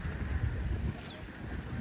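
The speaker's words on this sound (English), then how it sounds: "simple little ferry ride" Small ferry boat ride near a giant cruise ship: steady low rumble of wind and water around the open boat, fairly loud and continuous, with no voices.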